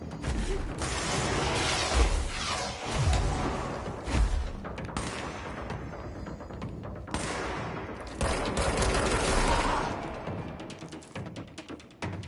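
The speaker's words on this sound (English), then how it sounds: "I was shooting enemies with the service weapon in any mode." Service weapon gunfire in the game Control, dense bursts of rapid shots and mechanical clatter with booming impacts, loud and continuous before tapering off near the end.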